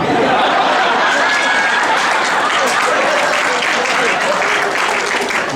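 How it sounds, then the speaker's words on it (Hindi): An audience at a poetry recital breaks into loud, sustained applause, dense and continuous throughout, with a hint of chuckling mixed into the clapping. "ये तालियां बजाने वाली बात नहीं थी"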